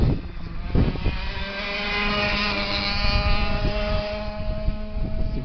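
Racing kart engine at Tarumã held at full power down the pit straight, a steady, continuous high-pitched drone with a rising tone, loud and close, no talk over it.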